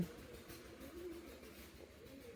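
A pigeon held in someone's hand struggles to break free, giving soft, low cooing close by with faint fluttering rustles throughout, steady and unbroken.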